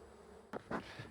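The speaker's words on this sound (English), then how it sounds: "Look at the bees bearding on this box, the top box I pulled. They are all over it." Quiet honey bee buzzing hums briefly around a hive box with bees bearding on it, with a couple of short louder bursts of nearby activity as bees move close to the microphone.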